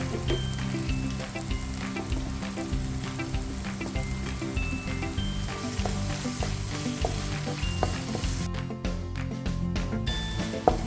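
Kashmiri chilli, pepper and coriander powders being stirred and fried in a pan for a Kerala-style fish roast, a steady close sizzle with scraping stir strokes throughout and no talk.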